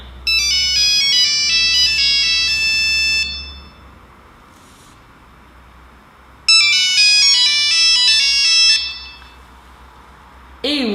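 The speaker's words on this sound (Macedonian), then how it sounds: "Nokia 3310 е еден од најгласните телефони на сите времиња" A Nokia 3310 mobile phone plays its bright, beeping melodic ringtone in two loud bursts separated by a quiet gap, with a faint voice at the very end.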